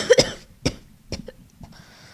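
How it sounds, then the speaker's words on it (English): Several short, sharp coughs in quick succession, close and fairly loud, trailing off into softer throat sounds. "excuse me for my coughing"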